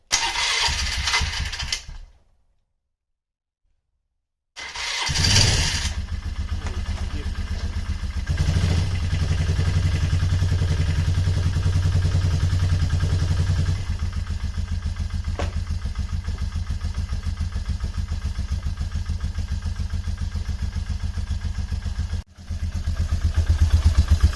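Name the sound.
Polaris Trailblazer ATV engine starting and running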